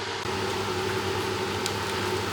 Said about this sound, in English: I've got the extractor fan on, so apologies for the noise.